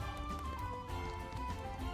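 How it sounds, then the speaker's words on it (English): Horse hooves clattering up stone stairs in the video game Triangle Strategy, a steady run of clip-clop beats over a busy game music bed. "I love how that horse just used the stairs."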